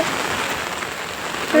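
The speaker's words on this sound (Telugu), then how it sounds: "చూడండి బాగా వర్షం పడుతుంది, గైస్." Heavy rain drumming steadily on an umbrella held overhead outdoors, a dense constant close patter with no let-up.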